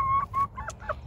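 A homestead rooster gives a few short clucking calls up close, brief bursts separated by tiny gaps, with faint background noise beneath.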